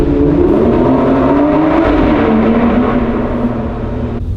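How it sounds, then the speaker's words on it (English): A V12 sports car engine revs loudly in a tunnel, a continuous close, echoing roar that holds steady and slowly shifts pitch. "the V12 in this sounds absolutely incredible"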